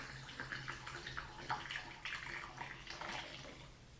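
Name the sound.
liquid being carefully poured into a glass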